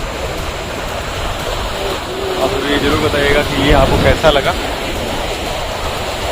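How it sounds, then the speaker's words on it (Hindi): Ocean surf at Kovalam Beach in Trivandrum, Kerala, keeps up a steady loud roar with waves swelling and breaking nearby, while someone talks over it. "लहरें आ रहे हैं"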